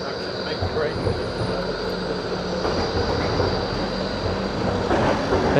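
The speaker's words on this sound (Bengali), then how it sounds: "এটা হচ্ছে আমাদের ট্রাম" A Melbourne tram rumbling past nearby, a continuous broad roar of wheels and motor holding steady and swelling slightly toward the end, with a faint high squeal at the start.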